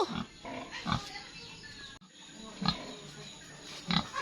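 Pigs on a rural farm grunt and snort up close in short irregular bursts, a few loud grunts standing out against a busy background.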